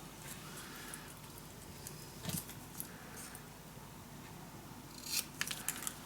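Scissors cut paper along fold lines while a secret storage book is made. Soft, close snips are spread across a quiet background, with a brief louder cut midway and a cluster of crisp snips near the end.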